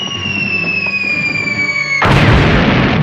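A bomb explosion from the Star Trek original series episode Arena: two held electronic tones glide slowly downward, then give way abruptly to a loud, sustained roaring blast.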